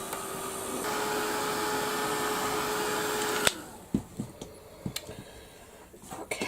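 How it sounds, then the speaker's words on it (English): A heat gun blows hot air over a Christmas craft piece, a steady loud whooshing hiss for several seconds that cuts off abruptly, followed by scattered light clicks and taps. "I'm just going to give it a blast with the heat gun."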